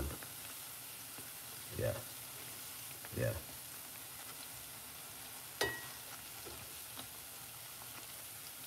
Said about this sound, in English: It's frying properly, man.